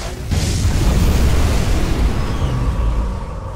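An ion cannon strike in a real-time strategy video game, a loud, sustained roaring blast that swells quickly and rumbles heavily for several seconds before slowly easing off.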